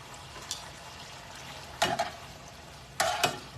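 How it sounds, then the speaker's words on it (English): Tomatoes sizzle quietly and steadily in a pan, broken by a few sharp clatters of stirring. "We're sizzling those up."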